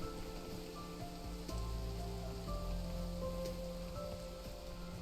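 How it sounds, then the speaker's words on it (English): Rain falling steadily on surfaces, a faint, even patter with scattered drops and tonal game music humming underneath throughout. "Oh, and it's raining."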